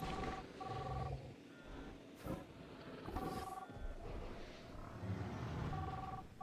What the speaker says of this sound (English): The phone is still going off.